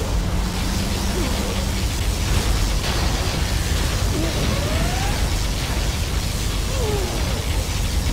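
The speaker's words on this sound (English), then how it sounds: "Particle cannon activated." In Command & Conquer: Zero Hour, a particle cannon fires and detonates, giving a sustained loud roaring rumble with a few thin whining sweeps over dense noisy battle sound.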